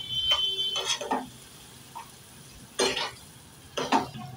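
Turmeric, coriander powder and cumin powder being sautéed in a pan for soya keema, with a spoon scraping and clinking against the metal in a few short separate strokes over a quiet background.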